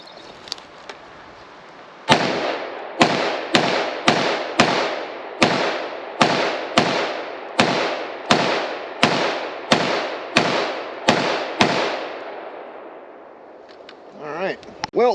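IWI Carmel rifle firing about fourteen sharp shots outdoors at a steady, deliberate pace, each crack loud with a ringing decay, followed by quiet and faint movement at the end.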